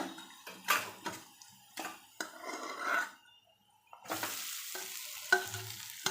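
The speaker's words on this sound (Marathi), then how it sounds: "पोहे एकजीव करून घेऊया आपण" Flattened rice (poha) being stirred into a pan of onion, salt and turmeric for Malvani-style kanda poha: intermittent close spatula scrapes in separate strokes, turning into a steadier scraping sizzle in the second half.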